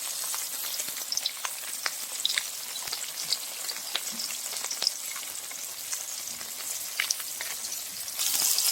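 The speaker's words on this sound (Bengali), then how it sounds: "মাছগুলো দুবারে ভেজে নেব" Pieces of rui fish frying in hot oil give a continuous, even sizzle dotted with sharp pops and crackles, growing louder at the very end.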